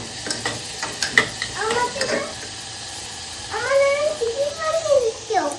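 Khichuri cooks in a pan as it is stirred, with a few sharp scraping clicks early on. People talk throughout, and a voice is prominent.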